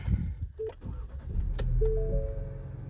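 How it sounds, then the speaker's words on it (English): A 2025 Ford Ranger XLT with the trailer tow package is started with a key: a click, a short electric whir, then the engine catches and settles into a low steady idle close by. "To start it, just put the keys in."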